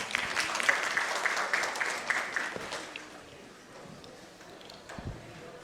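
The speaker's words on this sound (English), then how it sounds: "Please welcome him with a huge round of applause" Audience applause at a corporate learning and development summit in Mumbai, a dense burst of clapping that fills the first three seconds and then thins out and fades.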